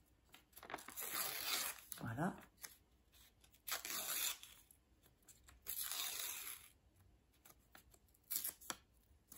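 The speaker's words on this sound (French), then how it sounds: "On va déchirer le papier." Small piece of paper being torn in several short bursts, close and fairly quiet, with someone speaking French briefly between the tears.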